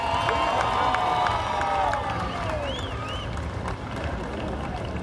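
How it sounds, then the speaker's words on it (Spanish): Cheering and applause fill a hall at a tribute ceremony honoring Cheo Feliciano, a dense, continuous roar of crowd noise that stays loud throughout and eases only slightly toward the end. "Vamos también a recibirlo con un fuertísimo aplauso"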